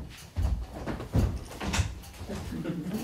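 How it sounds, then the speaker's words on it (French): A door is shut during a staged performance of Molière's comedy George Dandin, giving a few dull wooden thuds and knocks close by over a second or two, with a low hum of room noise between them. "Là, la porte est refermée."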